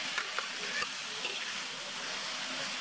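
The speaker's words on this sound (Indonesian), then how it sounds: "Bumbunya langsung ditumis yang sudah dihaluskan." Ground spice paste sautéing in about 50 ml of cooking oil, a steady soft sizzle with faint stirring scrapes, close and unbroken, with no voices.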